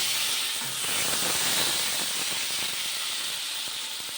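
Curry of onion, garlic, tomato, ginger paste, chili and ground spices being sautéed in a pan gives a loud, steady steamy hiss throughout, close up with no voices.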